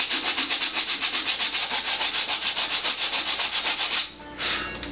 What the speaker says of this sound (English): I've got some 60 grit sandpaper here, and I'm just gonna go along this seam